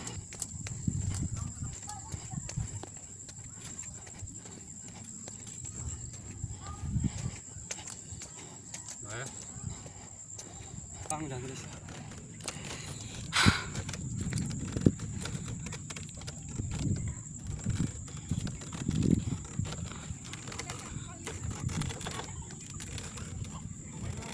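Horse hooves clop in an uneven rhythm on a hard surface in Nepal, with voices talking over them and a faint steady whine throughout.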